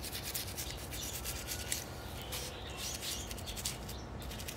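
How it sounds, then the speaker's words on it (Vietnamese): A brush scrubs a vintage mechanical keyboard clean, making a steady, close rasping rub that continues without break, with faint chirpy squeaks mixed in. "Thì vệ sinh bằng cách là mình dùng cái bánh răng thôi, dùng cái bánh răng chà rửa thế này thôi."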